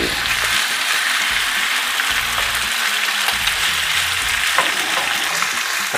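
Meat sizzling in hot oil with onions in a covered pan, a steady dense crackle and hiss that runs unbroken, close and fairly loud, with a few sharper pops.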